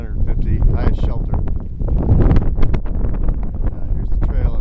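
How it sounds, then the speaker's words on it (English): Strong gusty wind on a high Appalachian Trail mountain near a shelter, loud buffeting roar against the microphone that rises and falls, with someone talking throughout. "It's too windy."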